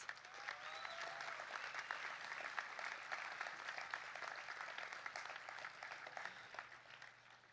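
Rally crowd gathered for a memorial ride applauding steadily at a moderate distance, a dense even wash of clapping lasting throughout, with faint cheers mixed in.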